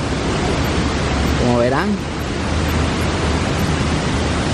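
A small waterfall and rushing floodwater after a swollen creek roar in a steady, loud, unbroken wash of noise, with a person briefly speaking over it.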